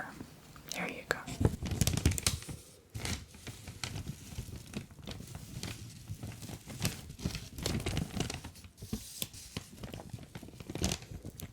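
Newspaper being handled and crumpled up close in an ASMR sensory-test roleplay, irregular crinkling and tearing bursts with pauses between them, under soft whispering.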